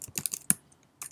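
Quick keystrokes on a computer keyboard tap out a short burst of clicks, pause briefly, then resume with one more quick pair, close and fairly quiet.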